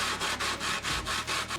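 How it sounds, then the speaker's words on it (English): A soft cement casting is sanded with coarse sandpaper in quick, rhythmic back-and-forth strokes. About eight close, gritty scrapes follow one another with no talk. "I think I want to sand down the bottoms. Got a sheet of coarse sandpaper."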